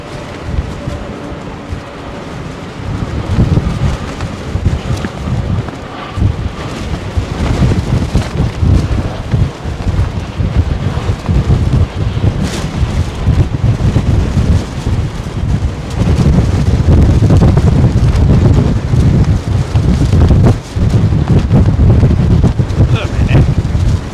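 Gusty wind buffets the microphone at London Heathrow Airport, loud rumbling bursts that swell and drop, building stronger in the latter half, with voices now and then.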